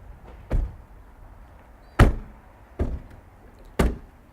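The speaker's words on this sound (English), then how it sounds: "That's 4 car doors slamming." Four car doors slam outside, heard from indoors in a living room: four sharp, solid thumps spaced unevenly over about four seconds, fairly close and loud against a quiet background, with no talking.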